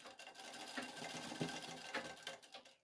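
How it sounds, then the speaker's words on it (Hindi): A sewing machine runs steadily up close, stitching a shirt cuff beside the sleeve joint, its continuous whirring motor and rapid needle rhythm carrying on with no voices for about three seconds. "इस तरीके से आपको थोड़ी दूर सिलाई कर देनी है"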